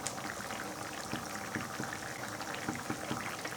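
A pot of masoor lentil dal with green chillies simmers, giving faint soft bubbling and small liquid pops over a low steady hiss, quiet and unbroken, no voices.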